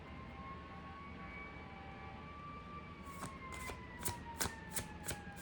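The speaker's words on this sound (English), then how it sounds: "The sirens outside." Sirens wail outside, rising and falling tones drifting steadily over a low rumbling city background, with sharp knocks and bangs cutting in near the end.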